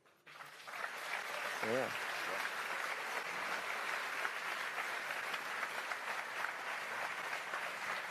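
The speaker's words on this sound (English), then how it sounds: "I feel like I keep cutting the applause off." Audience at an Elite Dangerous panel at Frontier Expo 2017 applauds in a steady, sustained roar of clapping that fills the room, with a brief voice heard early on.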